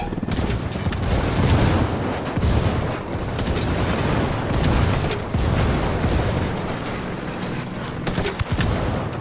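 Frag grenade blasts and gunfire in the tactical shooter Ghost Recon Wildlands, loud and continuous with repeated booms and crackling shots close by, a helicopter engagement filling the whole stretch without pause.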